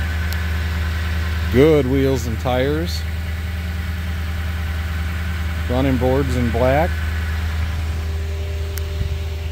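A 2020 Toyota Tundra with the 5.7 liter I-Force engine idles steadily in a low, continuous hum, someone talking over it in two short bursts.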